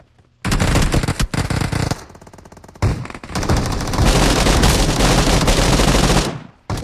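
Heavy automatic gunfire in the PUBG Mobile battle royale game, loud and dense, with bursts of rapid shots filling most of the clip and a brief lull near the middle.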